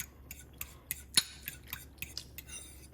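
A utensil taps and scrapes against a bowl while tonkotsu shio ramen broth is mixed, a series of light, irregular clinks and clicks, close and fairly quiet.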